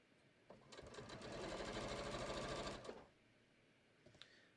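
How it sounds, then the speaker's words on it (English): A sewing machine stitching a patio cushion cover, with one continuous burst of fast, even stitching of about two and a half seconds that starts and stops cleanly, close by and alone. "I'm going to start stitching."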